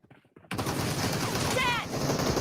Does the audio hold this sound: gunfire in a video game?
yes